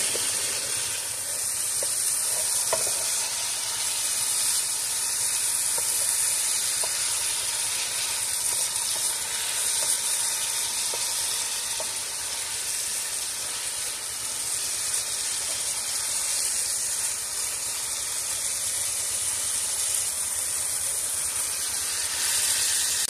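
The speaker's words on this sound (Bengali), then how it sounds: "এই যে আলুটা ভাজতে ভাজতে বাদামি কালার এসে গিয়েছে" Potatoes frying in a pan with turmeric powder, stirred until browned, giving a steady, unbroken sizzling hiss at an even level throughout, with no voices.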